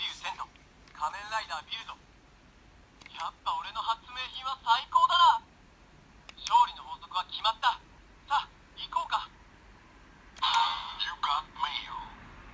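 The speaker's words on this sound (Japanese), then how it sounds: "あ、着信音だ。" Ringtone from a Kamen Rider Build DX Build Phone toy, a small phone-shaped toy, playing bursts of electronic beeping tones in an uneven pattern, fairly quiet and close.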